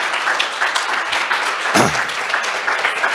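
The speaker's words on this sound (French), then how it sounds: "On va reprendre l'applaudissement pour vous énergiser. Ovation debout pour Mme Geoffroy" A standing ovation for Mme Geoffroy at a conference on youth mental health in Québec during the Covid pandemic, the crowd's steady applause filling the room with a brief louder bump midway.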